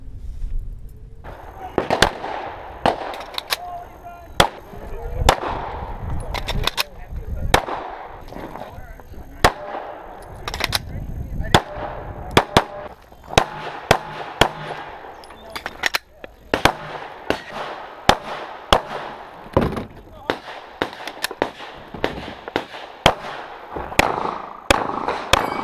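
Pistol shots fired during IDPA practice at an outdoor range, a long series of sharp loud cracks in irregular bursts and single shots, some fast doubles, with talking in the background.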